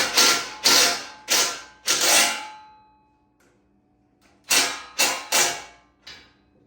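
A hand ratchet tightening bolts with lock washers on a firewood bagger, bursts of loud, close clicking strokes, four in quick succession, a pause, then four more.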